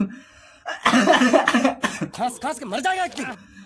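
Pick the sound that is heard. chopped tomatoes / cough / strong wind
cough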